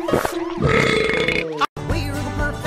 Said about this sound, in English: What do you know? You just won the burping contest, too!